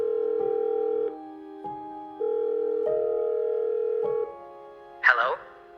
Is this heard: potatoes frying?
no